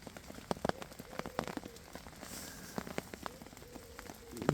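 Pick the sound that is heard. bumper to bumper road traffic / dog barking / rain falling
rain falling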